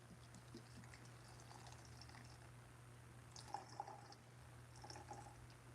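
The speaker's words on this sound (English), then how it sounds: "Hold on, while I pour up." A drink is poured quietly into a glass, a soft liquid trickle over a low steady hum, with a couple of faint clinks toward the end and no speech.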